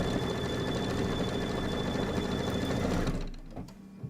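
An embroidery sewing machine stitches an appliqué block in a loud, steady, rapid mechanical whir that runs alone for about three seconds before dropping away into quieter clicks and handling noise.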